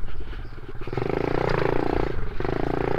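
A small mini motorcycle engine buzzes and rises in pitch as it accelerates, with a rattly, clattering tone, recorded up close.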